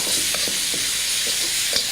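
Seasoning paste fries in hot oil with a loud, continuous sizzle and hiss, broken by faint stirring scrapes, with no talking.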